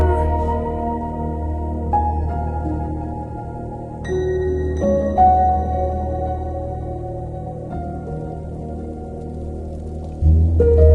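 Slow, drifting ambient Minecraft music from the Soul Sand Valley and Basalt Deltas, with sustained low drones and sparse melodic notes, calm and mysterious, playing steadily without any voices.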